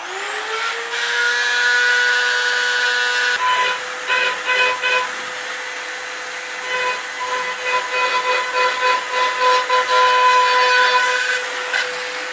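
A Dremel rotary tool carves a deer head mount, a high, steady whine that stutters into rapid bursts as the bit bites into the workpiece, close and alone.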